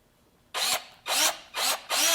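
A power drill with a 1/8 inch bit bores into steel in four short, loud whirring bursts separated by brief pauses, close up with no talk.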